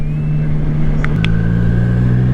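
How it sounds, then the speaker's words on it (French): A Triumph Tiger Sport 660 motorcycle engine drones steadily while riding near Dammartin-en-Goële, a loud, constant low hum heard alone with no talk. "de vous présenter ma moto qui est une Triumph Tiger 660"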